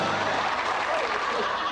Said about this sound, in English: A round of applause, he goes back to his seat.